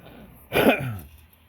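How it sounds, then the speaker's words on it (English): A single close cough and throat clearing, loud and alone in an otherwise quiet room, lasting about half a second. "Excuse me, I had a cough."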